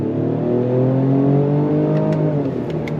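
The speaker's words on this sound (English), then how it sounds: "We're gonna go on throttle from a dead stop if we can, or at least a slow roll." A 2025 Ford Explorer ST twin-turbo SUV revs up steadily and loudly from a slow roll, a continuous accelerating drone with rising tone throughout, no voices.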